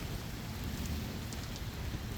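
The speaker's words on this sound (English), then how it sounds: "So now it's raining." Rain falls steadily on a tarp awning outdoors during a storm, a dense, even hiss with soft patter and no voices.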